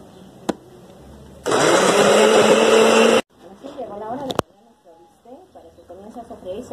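A kitchen blender grinds chipotle sauce in a loud burst of about two seconds, bracketed by someone speaking before and after, with clatter around it.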